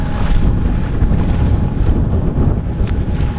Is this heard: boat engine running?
yes